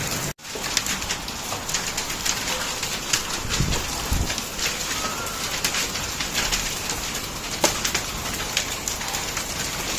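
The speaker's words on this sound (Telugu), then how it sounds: "రాళ్ళవాన అయితే ఫుల్ రాళ్ళు అయితే బాగా పడ్డాయి" Hail falling with heavy rain in Hyderabad, Telangana: a dense, steady roar of ice pieces and raindrops striking surfaces, with scattered sharper impacts and birds cooing faintly underneath.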